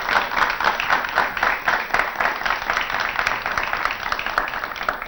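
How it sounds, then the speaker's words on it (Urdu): Studio guests applaud on a PTV Home television program, their clapping a steady, fairly loud patter of many hands that runs unbroken for several seconds with no talking. "تو ذرا تالیاں بجا کر اپنے ہونے کا ثبوت دیجیے"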